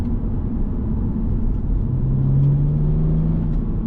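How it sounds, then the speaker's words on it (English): A BMW E92 330d with its diesel engine pulling in first gear gives a steady, close low rumble that swells slightly as it accelerates, with no talking over it. "Doesn't make a bad noise for a diesel, this, does it?"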